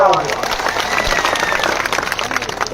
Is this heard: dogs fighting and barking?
no